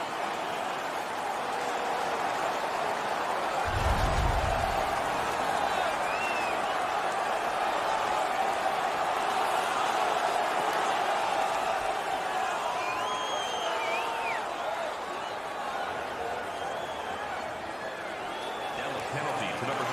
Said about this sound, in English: The crowd is all over them right now.